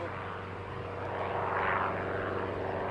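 Propeller training aircraft from the Aero Club at Christchurch Airport, a distant droning engine hum that swells slightly as it passes, heard alone without talk.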